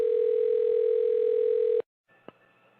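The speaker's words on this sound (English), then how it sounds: "We just heard somebody's phone ringing" A loud, steady telephone tone sounds alone during a call, then cuts off abruptly, followed by a short gap and a faint click.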